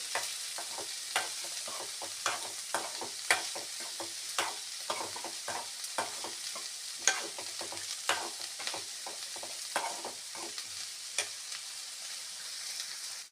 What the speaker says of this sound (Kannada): ಪನ್ನೀರನ್ನು ಸ್ವಲ್ಪ ಹುರಿಯೋದು ಬೆಣ್ಣೆ ಇದ್ದರೆ ಬೆಣ್ಣೆ ಉಪಯೋಗಿಸ್ಬೋದು